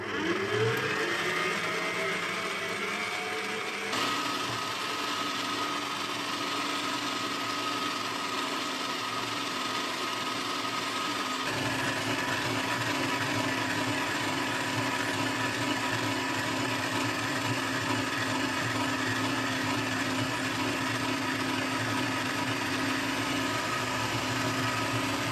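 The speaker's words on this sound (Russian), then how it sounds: "Ну и все, теперь взбиваем." Electric mixer whipping eggs for a sponge cake, a steady loud motor whir running throughout with a shift in pitch partway as the speed changes, no voices.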